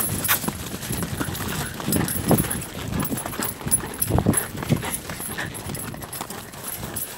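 Horses climbing a steep farm slope, hooves clip-clopping on the ground in an uneven, plodding rhythm at close range, with faint outdoor noise and little talk.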